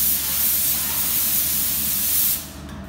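A Harbor Freight Spectrum 1.3 paint gun sprays a third coat of automotive paint in a loud, steady airy hiss that stops suddenly near the end.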